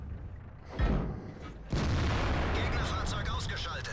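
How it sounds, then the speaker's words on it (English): An artillery shell lands in World of Tanks with a heavy boom, followed moments later by a second loud impact and a sustained rumbling roar. No one speaks over it. "Artillery landed, he missed me."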